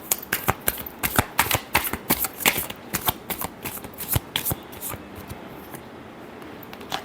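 A deck of tarot cards being shuffled by hand, with rapid, crisp riffling bursts that come close together, then thin out toward the end.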